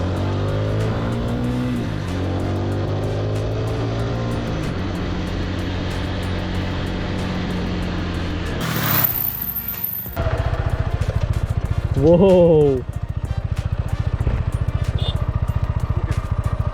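A TVS Apache RTR 160 4V motorcycle revs and accelerates hard on an empty road during a test run, the engine note climbing through repeated gear changes before a brief wind-blasted gap and further rising pulls.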